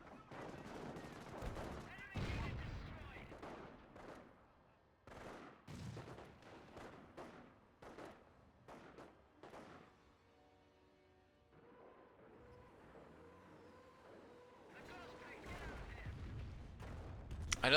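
Rapid gunfire in a video game, dense volleys of sharp shots and blasts in bursts, with a quieter stretch of background game noise before the firing picks up again.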